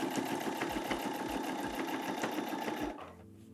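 A Brother NV50S sewing machine stitches through thick fabric, its fast, steady mechanical whir running loud and close with a rhythmic thump of the needle before cutting off near the end.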